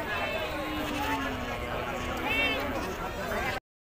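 Goats bleat now and then at a busy weekly goat market, heard amid crowd babble and a voice talking over the scene.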